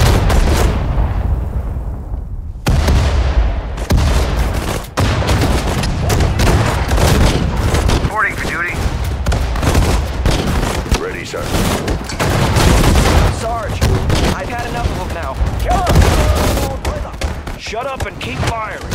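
Dense gunfire and artillery in the Sudden Strike 4 Pacific War campaign at the Battle of Guadalcanal, with loud rapid shots, booms and bursts running continuously while voices call out over the fighting.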